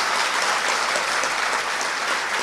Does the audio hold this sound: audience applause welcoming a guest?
yes